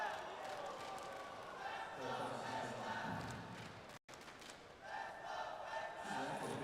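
An esports arena crowd at IEM Chengdu 2024 roars and chants for FaZe Clan during a Counter-Strike Mirage quarterfinal against Liquid, a dense, surging wash of voices with a brief dropout midway, with a commentator talking over it.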